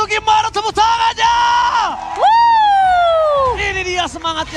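At an esports grand final venue, a large crowd lets out loud, rising and falling whoops and cheers, with long sustained shouts swelling over the noise of the hall.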